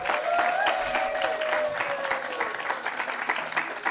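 Audience applause for the Book Loft independent bookstore crew at a community gathering, a dense sustained wash of clapping with a voice briefly audible over it.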